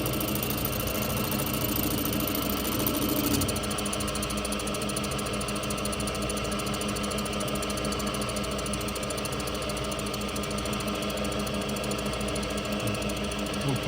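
A valve-seat cutting machine works on a Harley-Davidson M-8 cylinder head, giving a continuous droning, vibrating mechanical whir at steady loudness with a slight change a few seconds in, no voices.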